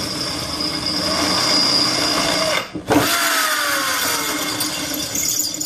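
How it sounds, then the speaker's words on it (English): A loud, continuous power drill whines and grinds steadily through a pilot hole while building a gold mining trommel, briefly cutting out for a moment before spinning back up to full speed. "it'll be real easy just to drill all the way straight through"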